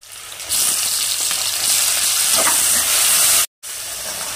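Bay leaves, cinnamon, cloves, fennel and star anise fry in hot ghee for an egg and vegetable biryani. The result is a steady loud sizzle that starts abruptly, holds evenly, cuts out for a moment near the end, then resumes.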